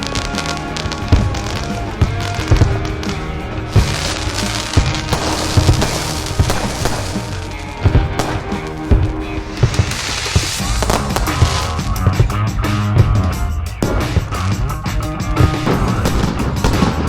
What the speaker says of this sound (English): The Fireworks Brigade is now online.